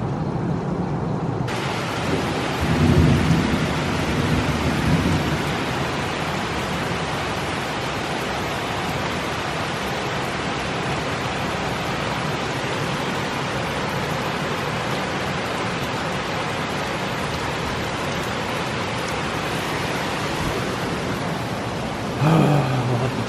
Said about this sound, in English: Look at all that darn rain.